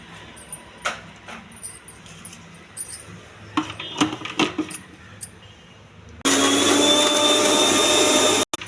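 A mixer grinder blending coconut, putnala and mint chutney roars into a loud, steady whir after scattered clinks and taps of utensils, running continuously until it cuts off abruptly at the end.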